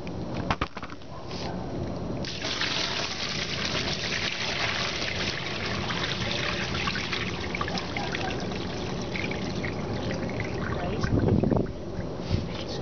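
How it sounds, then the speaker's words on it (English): Water poured out of a bucket of washed play sand, a steady trickling and splashing pour that runs for most of the stretch, moderately close, with a brief louder surge near the end. "So yeah, let me pour this stuff out."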